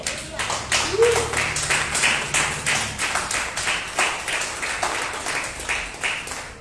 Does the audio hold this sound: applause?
yes